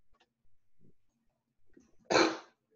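One sharp, fairly close sneeze bursts out near the end during an online meeting, preceded by a few faint breaths and small vocal sounds in an otherwise quiet room.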